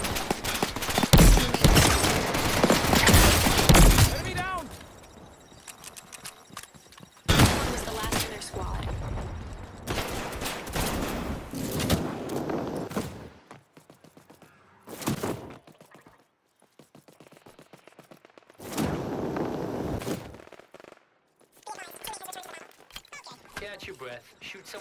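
Gunfire in the video game Off The Grid comes in rapid automatic bursts separated by gaps, loud and close, alongside game voice lines and other in-game effects.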